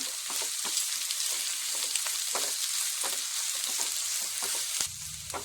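Curry ingredients sauté in a frying pan with a quarter spoon of salt, a dense continuous sizzle broken by frequent spoon-scraping stirs, close and loud throughout with no voices.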